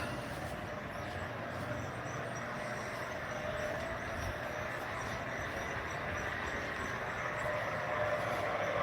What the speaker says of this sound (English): we're going to switch over to the coal train here